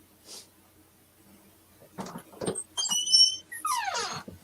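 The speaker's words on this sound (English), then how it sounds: "I hear squeaking noises" Short high-pitched squeaks chirp in clustered bursts near the end, preceded by faint scattered knocks and rustles in an otherwise quiet room.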